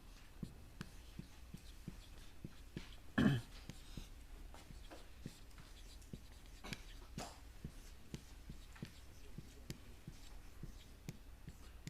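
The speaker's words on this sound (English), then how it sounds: "Let us write it once more." Chalk or pen scratches and taps out strokes by hand during a lecture, a steady series of short close ticks with one louder knock partway through, no talk over it.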